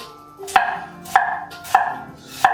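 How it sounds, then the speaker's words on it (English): Four evenly spaced knife chops slice through purple cabbage for sauerkraut, each a sharp crisp crunch against a cutting board, close and clear with quiet gaps between strokes. "slice it up"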